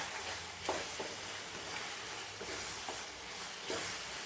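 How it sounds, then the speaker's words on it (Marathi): Sugar syrup for barfi bubbles and simmers in a pan while it is stirred, a faint, soft sizzling hiss with periodic gentle stirring swishes about every half second to second. "साखरेचं पाणी आटायला थोडासा वेळ लागतो त्यामुळे इथे हे सारखं हलवत व्हायचं आहे"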